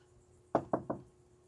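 Three quick knocks on wood, close and crisp, in an even descending rhythm against a quiet room with a steady low hum.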